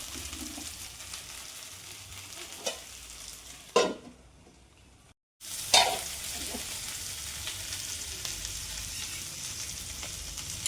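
Chicken curry simmering in a pan on low stove heat, with a continuous close sizzling hiss, a few soft clinks, and a brief drop to near silence partway through.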